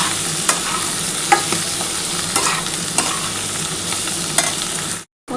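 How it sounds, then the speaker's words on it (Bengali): Cauliflower stems and potato fried with poppy seed paste sizzle loudly in a pan, with a steady crackle and periodic scraping stirs close up, cutting to silence briefly near the end. "এবার এটা খুব ভালো করে কিন্তু ভাজা করতে হবে"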